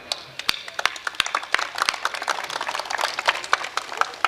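Audience applause at a Hindi poetry recital: a scattered crowd claps steadily, the sharp irregular claps staying fairly close and moderately loud throughout the brief stretch.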